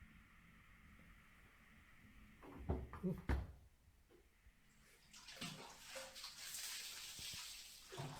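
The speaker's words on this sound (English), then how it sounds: "someone splashing water in the bath amidst the darkness can be heard" Water sloshes and splashes in a bathtub, with a few louder thumping splashes midway, then a steady rushing pour of water continuing to the end.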